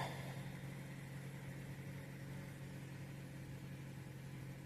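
A 2013 Dodge Avenger engine idles steadily with a fairly quiet, even mechanical hum and a constant low drone, heard alone from nearby.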